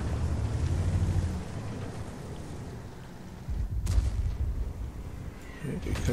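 A deep boom of artillery fire in the tank video game World of Tanks lands in the middle, rumbling over a low engine-like drone, with a voice faintly present.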